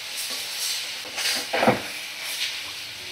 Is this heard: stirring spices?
yes